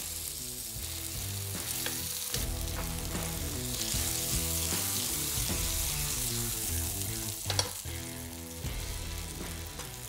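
Veal scallopini frying in a large pan, a steady, loud sizzle close by throughout, with light scraping as the pieces are flipped.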